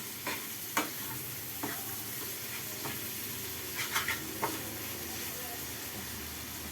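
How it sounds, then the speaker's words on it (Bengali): Egg chicken chow mein with fried meat pieces is stirred in a pan: a soft, continuous sizzle runs underneath while a spatula scrapes and clinks against the pan in scattered strokes. "এখন নাড়াচাড়া করছে।"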